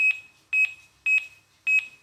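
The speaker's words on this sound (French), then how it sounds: "Ça, c'est une sorte de bip." A FrSky Qx7 radio transmitter running OpenTX sounds a warning beep in four evenly spaced short double-pulse tones, clear and close, with quiet gaps between them.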